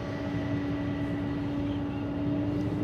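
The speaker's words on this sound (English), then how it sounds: "Delta 719 Heavy, runway 1 right, clear for takeoff." Delta 719 Heavy airliner taking off from runway 1 right at San Francisco International Airport, a steady, continuous engine roar with a constant hum, heard from a distance at moderate level.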